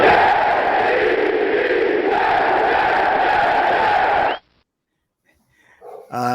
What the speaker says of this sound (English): Let's hear the crowd there at MetLife one more time.